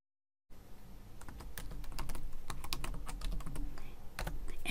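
Keys on a computer keyboard click in quick, irregular strokes as a username is entered, close and fairly quiet after a brief silent start.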